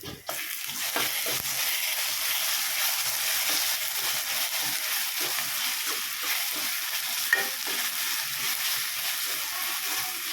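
Ginger and green chillies frying in oil, a loud continuous hissing sizzle close by, broken by soft scraping stirs, no talking.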